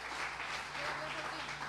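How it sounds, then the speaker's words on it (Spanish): A church congregation at a Spanish-language worship service claps together, a short burst of steady applause at moderate level with some voices mixed in. "Dele su mejor aplauso por algunos"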